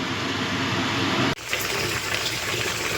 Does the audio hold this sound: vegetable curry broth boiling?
yes